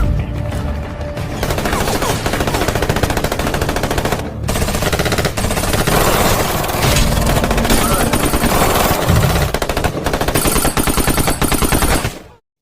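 Rapid bursts of automatic and single-shot gunfire fill a fierce film battle between soldiers, loud and nearly continuous, with dense crackling volleys and brief pauses.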